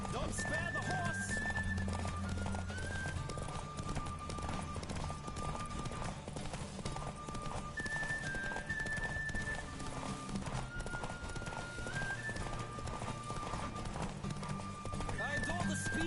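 Rapid hoofbeats clip-clop at a steady gallop in a horse race in The Witcher 3, under a continuous backing of music, with a horse whinny rising briefly amid the rhythm.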